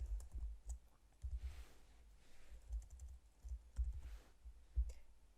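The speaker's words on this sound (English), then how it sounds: "here I need to type the first text of my list" Rapid typing on a computer keyboard, a steady run of quiet, close keystrokes with short pauses, heard alone without speech.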